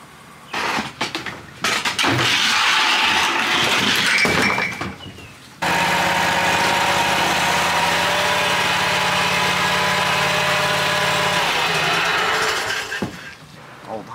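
An old Honda lawn mower engine runs loud and close in a steady drone, preceded by clattering knocks and fading out near the end.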